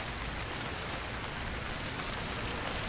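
Steady rain hisses in the survival game Stranded Deep, a dense, even wash of drops falling on surfaces, faint and unbroken, with no voices over it.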